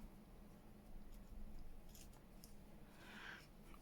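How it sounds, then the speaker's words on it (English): Small scissors that are gummed with glue snip through paper in a handful of quiet, close crisp cuts, with soft rustling between them. "Let's try with these small scissors."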